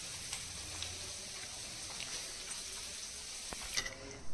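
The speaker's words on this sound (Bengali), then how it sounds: "তো দেখো এদিকে ডাল ফুটে গেছে" A pot of lentil dal bubbles at a boil. It makes a quiet, steady simmering hiss with faint pops and one sharp knock near the end.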